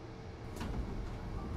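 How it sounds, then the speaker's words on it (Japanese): Train doors on a JR 205-series Musashino Line train slide shut in the BVE5 train simulator, heard as one brief, faint swish over a low, steady rumble. "2番線ドアが閉まります。"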